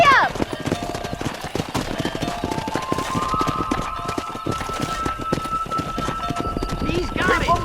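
Horse hooves galloping in the Red Dead Redemption video game, a steady rapid clip-clop running throughout with continuous game music and ambient sound layered over it.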